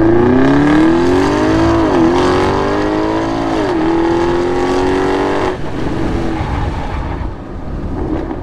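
A 2019 Porsche Cayenne Turbo tuned to 700 hp accelerates hard, its engine climbing steadily in pitch through two quick gear changes before the revs drop away. The sound is loud and close throughout, with no speech.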